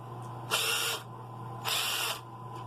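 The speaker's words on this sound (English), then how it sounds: "You can use a regular drill if you want, but this one has a little more" Drill driver whirring in two short bursts about a second apart, close and fairly loud against a quiet background hum.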